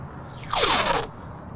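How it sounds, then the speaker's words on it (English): A strip of tape is pulled off the roll and pressed onto a car door, making one quick rising rip about half a second long, close and fairly loud. "Put some tape right there."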